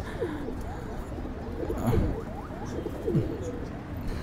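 A Rampuri pigeon coos in a few short, rolling calls close by, with a steady low background hum around it.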